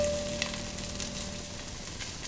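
Ingredients sizzle in a pan while browning, a steady, fairly quiet hiss and crackle with a low hum in the background and no talking.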